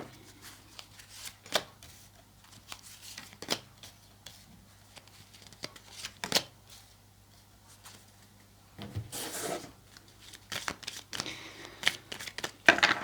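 Tarot cards shuffled by hand in a quiet room, a series of short crisp riffles and slides with soft rustling between them, growing busier toward the end.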